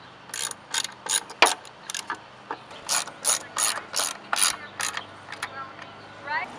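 Ratchet clicks in quick bursts as a T20 bit drives the bolts on a Teraflex Alpha HD hinged spare tire carrier, a dozen or so short close-up runs of ratcheting with pauses between.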